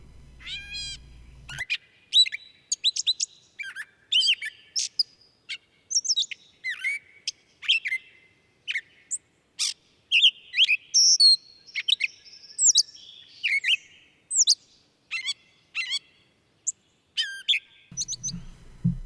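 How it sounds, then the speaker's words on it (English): A gray catbird sings a long, varied series of squeaky chirps, whistles and mewing cat-like notes, close and clear over a quiet background. "I think this is called a gray catbird."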